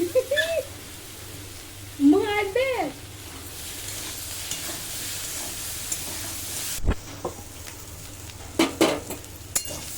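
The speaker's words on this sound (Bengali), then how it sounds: "কাঁঠাল খুব ভালো করে কষিয়ে নিয়েছি" Ripe jackfruit frying in a pan, with a soft steady sizzle under occasional clinks and scrapes of a utensil stirring, a voice briefly heard in the background.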